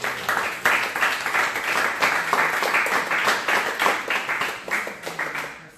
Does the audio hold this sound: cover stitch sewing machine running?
no